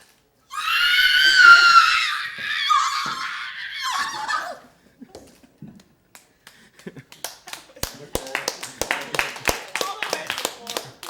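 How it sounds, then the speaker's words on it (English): A loud, sustained scream from a person at a screaming contest lasts a few seconds. Scattered clapping and snapping follow, with a few voices in the background. "We should have a screaming contest."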